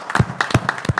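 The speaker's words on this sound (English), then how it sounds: "my motion is to give a round of applause to our council clerk, Joanne Rucker" Brief applause from a city council meeting honoring the council clerk, a short run of scattered individual claps, moderately close.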